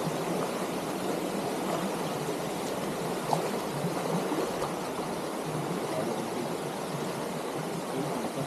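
Water flows in a steady, broadband rush from a stream at a rural survey site in Bagong Silang, Real, Quezon, continuous and moderately near with no distinct splashes.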